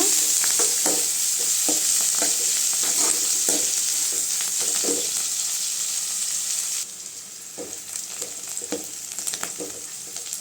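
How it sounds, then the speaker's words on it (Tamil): Onions and curry leaves sautéing in a pan, a loud continuous sizzle broken by repeated spatula stirring knocks, easing slightly toward the end, nearby with no talking. "அடுத்து கருவேப்பிலை சேர்த்துக்கலாம் வெங்காயம் நல்லா சவரசு வரைக்கும் வதக்கி விட்டுக்கலாங்க"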